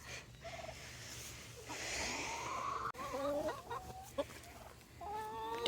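Farm turkeys gobble and cluck in a few faint, scattered bursts, with a low steady hum in the background.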